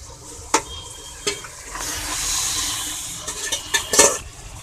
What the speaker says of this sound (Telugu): ఇప్పుడు మనము ఆల్రెడీ మ్యాగ్నిష్ చేసి పెట్టుకున్న మటన్ ముక్కల్ని ఇందులో వేసేసుకుందాము